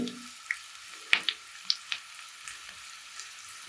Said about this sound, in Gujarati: સારી રીતે ફ્રાય થઈ જાય વઘાર